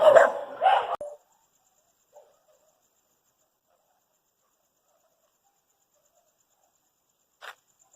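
A dog gives a short burst of close barks, then near silence for several seconds with one faint brief sound later.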